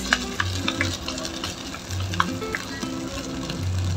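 Sardines stirred into a hot pan for misua, a steady close sizzle broken by scraping spatula strokes in an irregular rhythm, with no talking.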